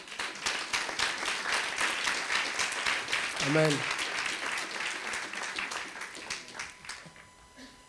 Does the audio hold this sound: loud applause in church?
yes